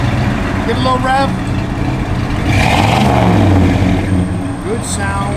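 A 1971 Ford Ranchero GT engine revs up once and settles back, a rising and falling growl heard close against steady background noise.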